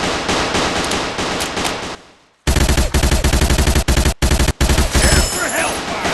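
Minigun in a video game firing long, loud, dense bursts of rapid fire, broken by a brief pause near two seconds and a few short gaps, with a brighter tail at the end.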